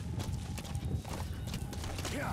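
Horse hooves clip-clop in the Metal Gear Solid V video game, a quick, steady run of hoofbeats with a brief neigh, heard under a speaking voice.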